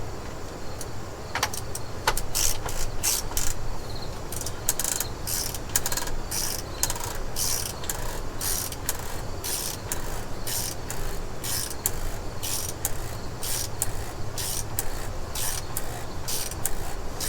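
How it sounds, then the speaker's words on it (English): A wrench ratchets an oil filter housing cap down on a 2004 Ford F250 6.0L diesel, giving rapid clicking bursts in quick runs, close and crisp over a steady background hum. "we'll grab that wrench and snug it back down into place"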